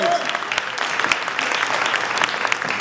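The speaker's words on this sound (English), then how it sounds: "That's worth an applause" An audience claps in a dense, sustained burst of applause after a city announcement about Trenton buying the former Marriott Hotel, loud and close without a break from start to finish.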